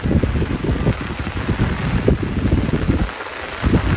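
Steady rain falls throughout, a dense close patter of drops on surfaces with no voices, holding at an even level from start to finish.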